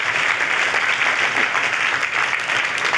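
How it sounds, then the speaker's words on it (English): A congregation at a church healing service claps steadily and loudly, a dense wash of many hands with no voices. "Clap, clap for Jesus."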